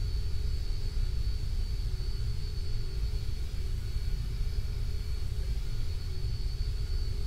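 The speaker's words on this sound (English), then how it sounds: "Oh, there's a plane landing" An airliner in the Roblox flight game Aeronautica comes in to land, a steady loud jet-engine rumble with a constant whine holding evenly throughout, with no talk.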